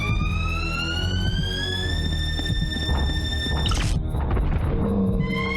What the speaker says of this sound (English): Sounds like the Silent Hill siren though